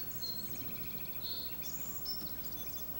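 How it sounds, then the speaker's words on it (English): Birds singing outdoors in a quiet setting, a few thin high chirps and short warbling phrases scattered over soft background hush, faint and somewhat distant. "listen to the birds, look at the view"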